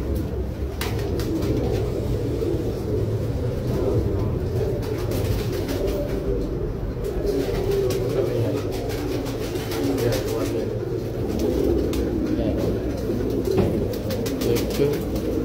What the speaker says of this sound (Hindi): ये 4 कबूतर है